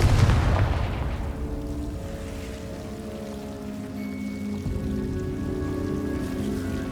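The Confringo fire spell in Hogwarts Legacy explodes with a short, bright burst at the start, then a fading rumble trails off beneath soft, sustained game music.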